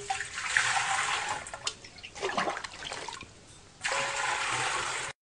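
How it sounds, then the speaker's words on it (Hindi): Water poured into a clay pot, about ten litres, heard as a loud gushing splash that pauses briefly and then resumes pouring, close by. "हाँ जी जी अपन पानी डाल दियो 10 लीटर"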